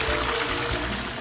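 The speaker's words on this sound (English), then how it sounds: "Flushes toilet." A toilet flushing in the Toca Boca video game, a short steady rush of water heard alone and fairly loud.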